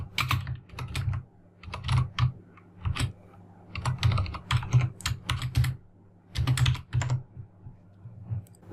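Rapid keyboard typing on a computer while writing GameMaker code, bursts of clustered keystrokes with short pauses between, close and fairly loud with no speech.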